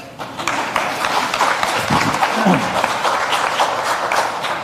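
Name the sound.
audience applause at voter forum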